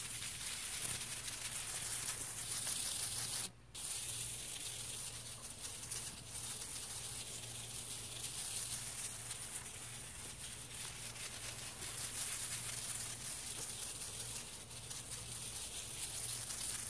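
A steady hiss of water sprayed on potato plants runs throughout at close range, even and continuous with a brief dropout partway through, and no talking.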